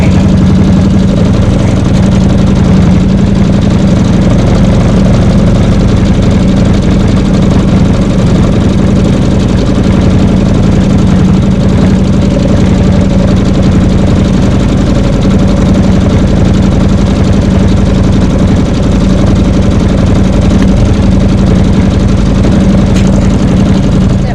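An embroidery machine runs a steady, unbroken stitching drone throughout as it sews bubble stitching on an applique block, heard close and loud with no voices.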